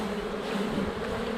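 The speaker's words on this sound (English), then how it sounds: "There's all these bees, right?" Dense swarm of honey bees humming steadily around a beehive frame, a close, continuous buzz with no voices.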